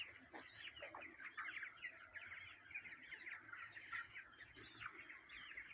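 A flock of broiler chickens in a hot poultry shed clucks and chirps continuously, a dense overlapping chatter of soft calls at moderate distance with no voices.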